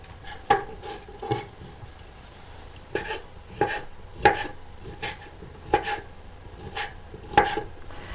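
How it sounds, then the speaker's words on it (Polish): A knife chops bacon into small cubes on a board in irregular sharp strikes, about a dozen thuds spaced out over several seconds, close and distinct with no talking. "połowę boczku kroję i dodaję do garnka, drobną kostkę"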